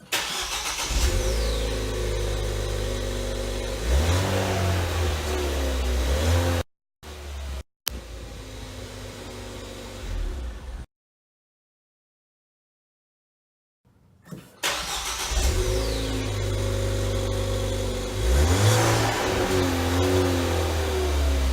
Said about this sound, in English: I think there is a little bit more induction noise than before.